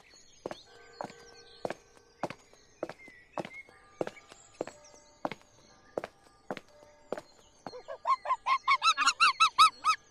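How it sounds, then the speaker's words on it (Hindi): Walking footsteps crunch through a forest, followed by a quick run of loud, regular goose-like honks as birds call close by, with no talking. "पक्षियों की आवाज आ रही थी"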